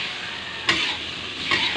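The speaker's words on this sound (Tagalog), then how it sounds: "Lagyan na natin yung pusit." Squid going into a hot pan for adobo, a close, loud sizzle with a couple of sharper bursts as pieces hit the oil, steady hiss between.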